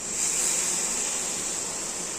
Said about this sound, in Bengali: এই পর্যায়ে অ্যাড করে দিব জল।